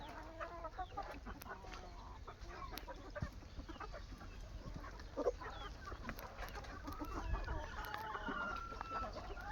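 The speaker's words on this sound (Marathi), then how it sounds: "प्युअर गावरान गावठी कोंबड्या ज्या असतात ना," Desi free-range country chickens on a poultry farm, with steady clucking and a rooster crowing among the flock, close and continuous over a busy yard background, with no talk.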